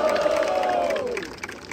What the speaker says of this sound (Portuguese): Barulho pra quem gostou das rimas, Jeff LP!